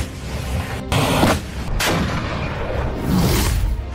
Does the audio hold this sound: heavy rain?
no